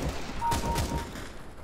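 Brief bursts of gunfire in Counter-Strike: Global Offensive, a few quick sharp shots close together, fairly faint under game ambience.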